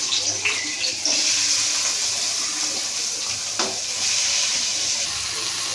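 Thinly sliced onions frying in hot oil in a home kitchen give a loud, continuous close-up sizzle with crackling bursts and occasional stirring scrapes.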